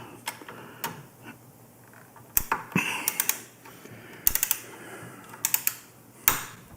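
A torque wrench clicks and ratchets while tightening a bolt on a fat-tire bike fork, with scattered sharp clicks and short ratcheting bursts up close against a quiet background, no speech.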